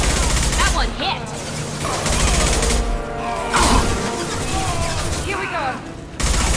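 Gunfire crackles in a Mass Effect 2 firefight on Omega, with repeated bursts and blasts over loud combat noise, and a voice speaks between shots.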